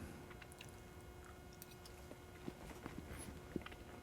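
Marinated pork loin back ribs, air-fried with a low-carb keto marinade, being chewed close up: soft, moist squishing bites with a few sharper crunchy clicks, quiet and alone.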